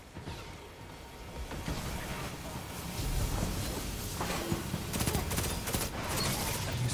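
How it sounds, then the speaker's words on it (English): Rapid gunfire in the sci-fi shooter game Destiny 2, a dense continuous fusillade with crackling bursts at moderate level, with a voice speaking underneath. "Your runner is under fire."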